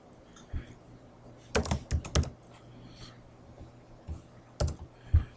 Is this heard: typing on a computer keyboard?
yes